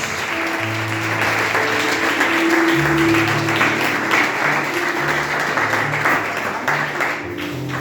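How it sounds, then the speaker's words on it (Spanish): A church congregation applauds for Jesus during a Spanish-language service, steady dense clapping filling the room throughout, with sustained instrumental tones underneath and faint voices. "Así que denle el aplauso a Jesús"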